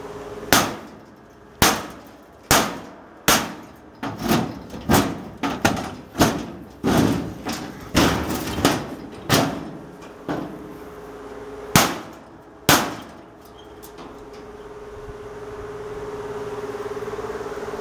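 A tactical tomahawk's point is struck hard again and again during destructive testing, a series of sharp, loud metallic impacts at an irregular pace, each ringing briefly before the next, then a quieter stretch at the end.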